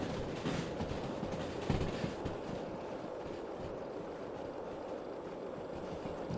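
A Big Boy steam locomotive running in the train game Derail Valley, a steady rumbling roll with a rhythmic mechanical chug and one brief louder clank, with no talk over it.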